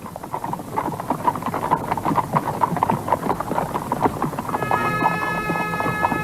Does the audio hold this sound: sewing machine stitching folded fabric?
no